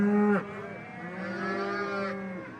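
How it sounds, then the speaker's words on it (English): A herd of cattle being rounded up on a farm for moving bellows in loud, close, overlapping moos, one drawn-out call running into another. "They're mooing like crazy."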